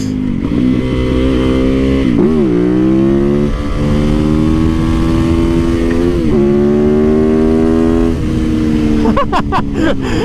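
Lightweight motorcycle engine running close and loud with a throaty rumble, revving up and down in several surges under road noise.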